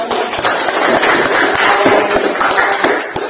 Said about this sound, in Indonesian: Silakan tepuk tangan dong buat